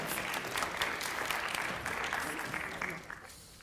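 Audience applause for seventh grade drama participants at a middle school literacy competition, a steady wash of clapping hands that holds evenly for several seconds and then thins out toward the end.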